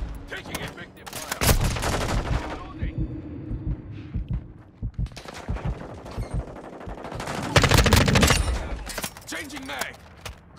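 Heavy video-game gunfire from Call of Duty: Modern Warfare II: loud, dense bursts of automatic fire and shots that swell and fade across the clip. Radio-style voices call out over the battle.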